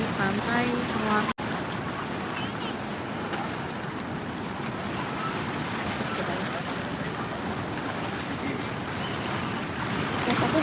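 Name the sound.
morning ambience at Sawar beach, waves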